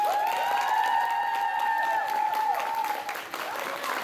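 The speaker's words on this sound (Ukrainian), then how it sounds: "Оплески." Audience applause and cheering at a beauty pageant, a steady wash of clapping from a crowd with a sustained tonal sound ringing over it for the first few seconds.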